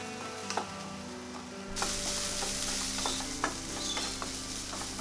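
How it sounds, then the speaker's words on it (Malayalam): Chicken with salt and chopped celery frying in a pan, giving a steady close sizzle with repeated clinks and scrapes of stirring that grow brighter partway through. "വീണ്ടും നല്ലതുപോലെ ഒന്ന് ചിക്കൻ കുക്ക് ചെയ്തെടുക്കുക."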